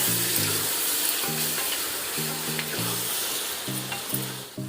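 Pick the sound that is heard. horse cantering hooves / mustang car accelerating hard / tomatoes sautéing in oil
tomatoes sautéing in oil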